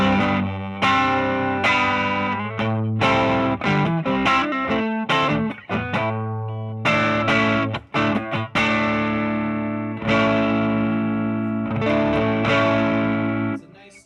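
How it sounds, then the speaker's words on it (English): Electric guitar through an overdrive pedal set to a mild breakup tone, strummed rhythmically in loud chopped chords with a gritty edge and some echo, no voice over it. "Kind of basic breakup sound. I often just keep that as a rhythm tone"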